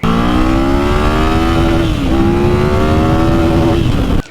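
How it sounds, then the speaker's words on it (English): A 2020 Yamaha VMAX 1700 motorcycle engine held against its rev limiter, a loud, close, sustained high-rpm roar with a brief dip partway through, ending abruptly. "you can tell by the sound that it's basically cutting it on and off to limit the engine from basically blowing itself up"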